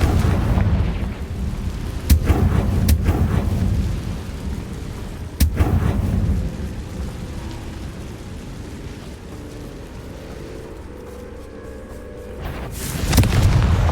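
In Hogwarts Legacy, Confringo fire-blast spells explode as heavy rumbling booms. Sharp blasts hit near 2 and 5.5 seconds over a continuous low roar, and another swell of rumble comes at the end.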